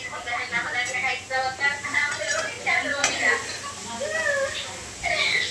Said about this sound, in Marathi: आता चिवडा करायला चालू आहे त्याच कढईमध्ये